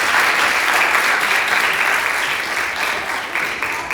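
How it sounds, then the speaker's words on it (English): Sustained audience applause for a group of kids at a songwriting event, a dense, loud wash of clapping that holds steady from start to finish with no voices over it. "Let's give these kids a round of applause"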